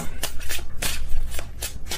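A deck of tarot cards being shuffled by hand, a rapid run of crisp riffling bursts at a close, fairly loud level, with no talking.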